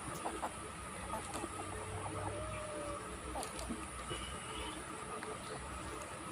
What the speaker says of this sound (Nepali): लोकल कुखुराहरू दाना खाँदैछ।